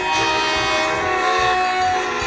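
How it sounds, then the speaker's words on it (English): The Flying Scotsman steam locomotive rolls in with a loud, sustained multi-tone horn blaring over the rumble of the train, steady and close throughout. "The Flying Scotsman pulled into the platform right in front of Gordon."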